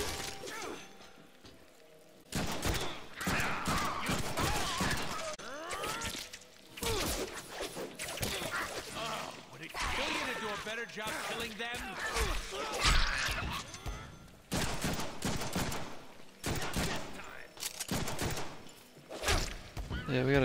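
Rapid gunfire, shattering crashes and explosions in the Deadpool video game, dense irregular bursts of impacts throughout, with a voice talking over the action.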